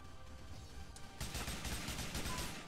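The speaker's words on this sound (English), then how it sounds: "See, I can hear some gunshots down there." Distant gunfire in the GTA IV DayZ mod video game, a rapid volley of muffled shots starting partway through over a low background rumble, faint and far off.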